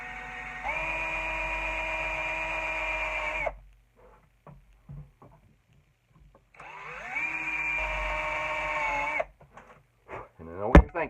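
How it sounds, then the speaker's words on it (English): A drill countersinks a screw hole in an axe handle while a split in the palm swell is being repaired: two sustained whining bursts of about three seconds each, separated by quiet handling noises and a brief clatter. "So I want to countersink it a little bit more so that that head of that screw goes"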